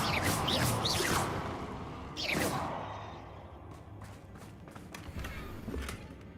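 Hogwarts Legacy video game Incendio fire spell: two whooshing, crackling bursts, one at the opening and another about two seconds in, over a steady game-ambience rumble with faint clicks afterward.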